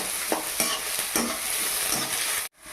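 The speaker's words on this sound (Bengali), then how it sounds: "কেটে রাখা রসুন, এগুলো ভাজা ভাজা হওয়া পর্যন্ত অপেক্ষা করতে হবে।" Chopped garlic and onion fry in a pan for a banana blossom dish, giving a steady close sizzle broken by several scraping stirs before the sound cuts off abruptly near the end.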